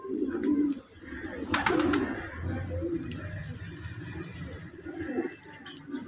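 Pigeons sitting on a rooftop coo in low, repeated soft calls, with a brief burst of wing flapping near the start and light rustling between the calls.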